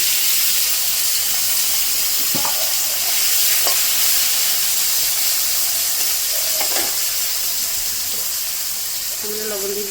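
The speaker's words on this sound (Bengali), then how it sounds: "এবার আলুগুলোও ভেজে নেব।" Potatoes fry in hot oil for a Bengali rohu fish curry with green banana, a continuous loud close sizzle with occasional utensil knocks and a brief clink at the end.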